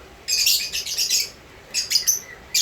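Lovebirds chirping in a breeding cage holding several pairs: bursts of shrill, rapid high tweets, close and fairly loud, in two clusters separated by a short quiet gap.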